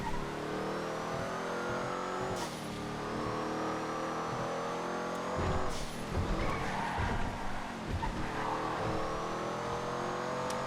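A tour bus lapping a crowded GTA FiveM video game race with nearly fifty cars, its engine droning steadily with shifting gear tones, joined by other racing cars, occasional tire skids and bursts of mechanical clatter, loud and close throughout.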